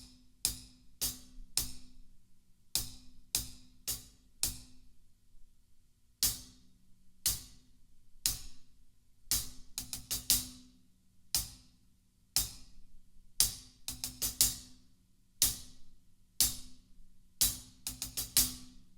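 Hi-hat trick played on a drum kit, quick clusters of crisp closed hats and accents in a repeating groove, some hits doubled in fast bursts, close and dry with no talking.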